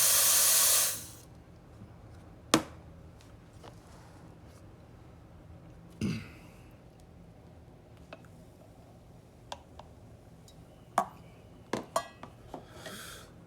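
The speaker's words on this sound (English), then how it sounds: "always purge your steam." An ISOMAC espresso machine's steam wand purges with a brief loud hiss of steam at the start, then falls quiet apart from scattered metallic clicks and ticks from the machine.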